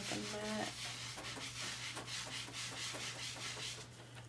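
Someone wipes a grimy Cricut cutting mat with a cleaning wipe, producing close, repeated rubbing strokes in a steady rhythm over a low background hum.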